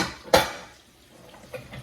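A small cooking pot clanks once sharply against other pots, then a fainter knock follows about a second later, with quiet stillness in between.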